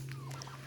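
Chickens on a farm give a short, close burst of clucking over a steady low hum, lasting under a second.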